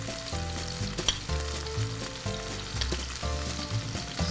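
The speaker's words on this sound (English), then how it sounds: "So in this pan I'm just going to get a pretty generous amount of olive oil." A generous amount of olive oil sizzling in a pan for uccelletto beans, with a steady faint crackle and soft rhythmic scraping strokes, close and alone.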